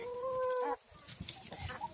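A chicken gives a short drawn-out call, followed by a few quieter clucks nearby against faint outdoor background noise.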